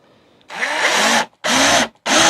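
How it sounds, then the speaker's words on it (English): A power drill drives a screw into a wooden DIY storage crate in three loud bursts, the first long and the next two shorter with brief pauses between them, close and alone. "And then I'm going to get my screw. And I am going to screw in."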